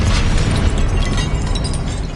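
Explosive Confringo spell blasts in Hogwarts Legacy on PS5 give a loud, dense, continuous rumble with bursts running through the whole stretch and no talk over it.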